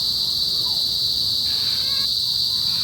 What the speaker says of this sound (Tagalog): Ayan, humuhuni ang kuliglig.